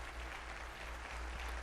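Applause in homage to the fallen fills Venezuela's National Assembly, a dense, sustained clapping from a large crowd across a vast hall, steady and unbroken.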